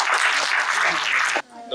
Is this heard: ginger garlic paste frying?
no